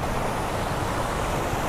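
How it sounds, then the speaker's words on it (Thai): Waterfall at the Ancient City open-air museum park in Samut Prakan, heard as a steady, broad rushing of falling water that holds even and continuous without any voices. "ตรงนั้นมีน้ำตกด้วยฮะ"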